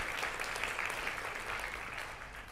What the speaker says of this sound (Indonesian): tepuk tangan sungguh-sungguh